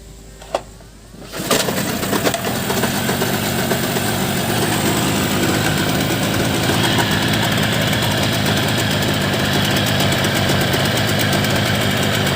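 A 15 hp boat outboard engine starts after a brief quiet moment, then runs steadily with a loud, dense, vibrating drone that continues unchanged to the end, with no speech.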